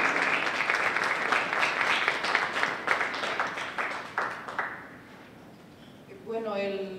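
Audience applause at a seminar on green policy proposals for Buenos Aires, welcoming a speaker: dense steady clapping fills the room for about five seconds, then fades out as a voice begins talking near the end.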